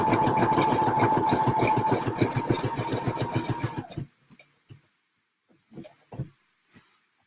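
A sewing machine runs up close, stitching through junk journal pages with a rapid, even mechanical chatter for about four seconds, then stops, leaving a few scattered soft clicks and handling taps in near silence.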